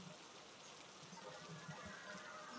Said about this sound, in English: if you guys can hear the rain